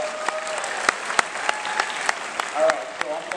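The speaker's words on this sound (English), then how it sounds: "just give them another round of applause because they did a great job" Audience applause at a school anti-bullying assembly, a steady wash of clapping with sharper individual claps standing out, under a faint murmur of voices.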